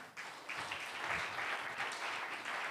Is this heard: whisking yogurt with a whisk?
no